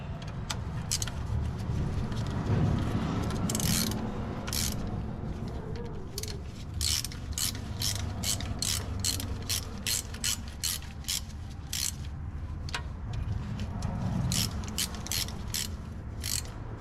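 A ratchet wrench snugs bolts on a 1984 Dodge W150 during a transmission service, giving bursts of rapid close clicking that stop and restart over a steady low background rumble.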